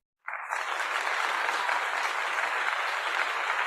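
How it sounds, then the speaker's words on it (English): Applause from an audience at a conference session breaks out abruptly after a short silence, then continues as a steady, even patter of many hands clapping without any voices. "Let us give a virtual round of applause again to Dr. Elizabeth Yumol Manuge."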